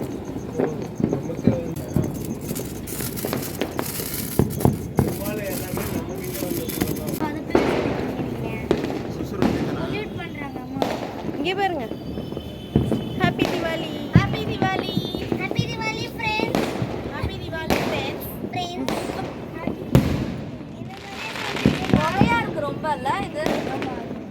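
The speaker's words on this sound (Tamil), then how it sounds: "சாப்பிட்டு முடிச்சுட்டு அதோட பட்டாசு வெடிக்கிறதுக்கு வந்தாச்சு" Firecrackers burst repeatedly during a Diwali celebration at home, with sharp, irregular crackling pops and rapid strings of bangs, nearby and loud, while people talk throughout.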